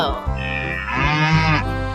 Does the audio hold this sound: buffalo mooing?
yes